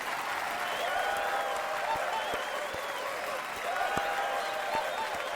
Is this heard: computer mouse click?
no